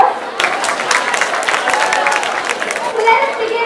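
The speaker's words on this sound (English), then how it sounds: "Please give them a huge round of applause." An audience at a college youth festival dance competition breaks into applause, a steady wash of many hands clapping close by, mixed with cheers and some chatter from young people.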